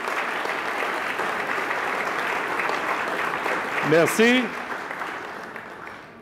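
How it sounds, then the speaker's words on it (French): Banquet audience applauding distinguished guests at an induction dinner, a dense steady ovation throughout, with a voice briefly speaking near the end as the clapping fades. "Donc, applaudissons nos distingués invités."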